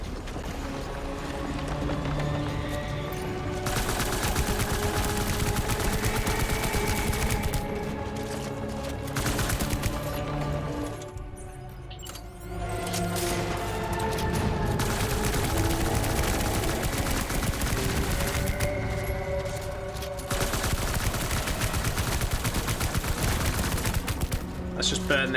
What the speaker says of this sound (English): Let's just burn this assault rifle